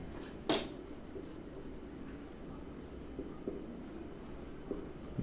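Chalk or marker writing on a board in a classroom, faint scratchy strokes with one louder tap, low in level under a quiet room background.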